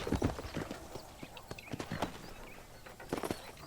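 Horse hooves clip-clop at a steady riding gait in the video game Red Dead Redemption. The beat is close and distinct, with a faint background of other game sounds.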